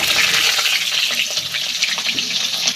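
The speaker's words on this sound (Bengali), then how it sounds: "এইবার কেটে রাখা পটলগুলো দিয়ে ভালো করে ভেজে নেব।" Sliced pointed gourd (potol) fries in hot oil in a wok, a loud, close, bubbling sizzle with watery crackles and occasional stirring knocks running continuously, no voices present.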